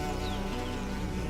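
Bees hum in a close, continuous buzz with a steady droning pitch that persists throughout, alone with no talking.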